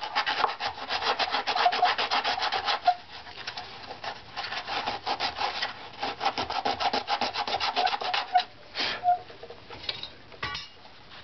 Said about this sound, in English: Sandpaper to smooth out a bit.